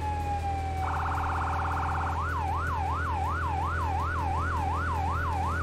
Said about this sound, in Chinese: 就是开消防车或者救护车的那个警笛啊。